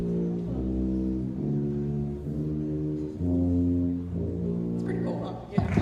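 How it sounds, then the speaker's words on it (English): A tuba played at a school spring concert sounds a series of sustained low notes, each held for about a second with a rich, buzzy tone. A brief noise follows at the very end. "I'm gonna have him play a couple notes on the tuba so you can hear how low it is"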